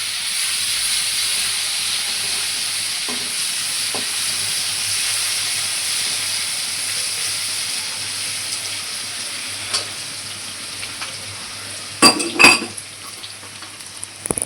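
A pan of bhaji sizzles and hisses steadily for a long stretch, then a spatula or utensil clatters sharply against the metal in a few quick knocks near the end, with no voices.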